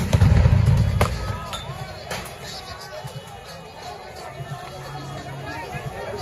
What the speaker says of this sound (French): Vous avez la police qui jette des grenades.